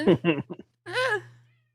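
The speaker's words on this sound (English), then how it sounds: "He just started meowing." A pet cat meows indoors, a single drawn-out mew near the microphone that follows a few short vocal bursts, then fades out.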